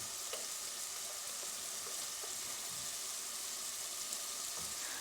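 Two tomatoes' worth of puree frying with masala in hot oil, a steady bright sizzle with faint occasional stirring scrapes, quiet and close, with no talk.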